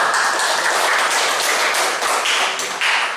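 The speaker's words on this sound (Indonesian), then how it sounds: "Oke, tepuk tangan buat kelompok 2 sudah selesai." A classroom of students applauds a finished group, a dense, steady patter of many hands clapping close and loud for about three seconds without a break.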